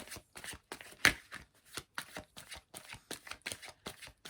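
Tarot cards being shuffled in quick repeated riffles and taps, a crisp rhythmic flutter close to the microphone, no talking.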